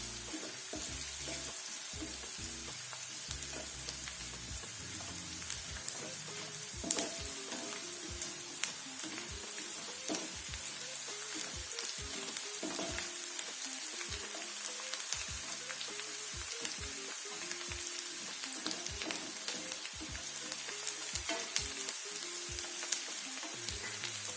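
Onions frying in a pan with a little water and asafoetida for masoor dal, a steady close sizzle with scattered crackles and occasional stirring scrapes throughout, no voices.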